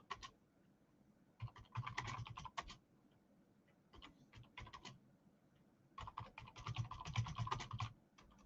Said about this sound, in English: this keyboard is slightly different to my other one, which is a slightly ergonomic keyboard